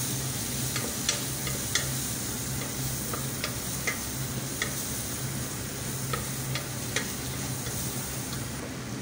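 Ginger powder stirred into sautéed milkfish in a pan: a continuous close sizzle of frying under repeated light scrapes and taps of a spatula against the pan, with no speech.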